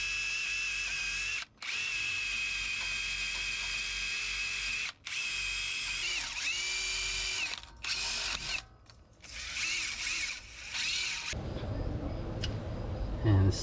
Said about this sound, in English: I'm just going to clean it up a little bit with the wire brush.